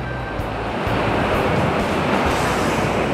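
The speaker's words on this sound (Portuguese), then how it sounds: "Olha a porrada da onda na pedra." Strong, rough sea waves pound the rocks along the shore at Praia do Senhor da Pedra. A continuous heavy surf roar is mixed with wind buffeting the microphone, loud and close, with no talk.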